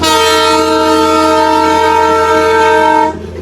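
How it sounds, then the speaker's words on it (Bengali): The Darjeeling Himalayan Railway toy train at Batasia Loop sounds a loud, close, sustained whistle for about three seconds before it stops abruptly, with no talking. "বাতাসিয়া লুপে ট্রেন চলে এসছে, আপনারা দেখতে পাচ্ছেন। টয় ট্রেন চলে এসছে।"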